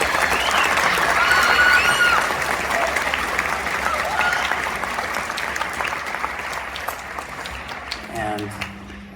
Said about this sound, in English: So let's give those directors another round of applause.